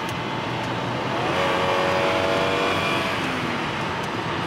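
A 2002 Dodge Intrepid accelerates along the road, its engine note rising steadily and staying loud and close for several seconds with steady road and wind noise.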